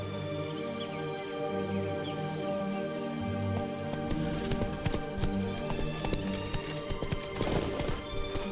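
Hooves of the horse Roach clip-clop steadily in The Witcher 3, a continuous rhythmic trot with a brief snort or whinny, set over ambient game music and faint birdsong.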